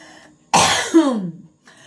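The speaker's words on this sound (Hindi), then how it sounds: "भयंकर खांसी हो रही है।" One harsh, close cough that trails off into a strained, raspy vocal sound, alone in a quiet room.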